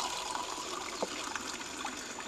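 Clean drinking water runs steadily from a village tap, a soft continuous splashing flow heard close and alone.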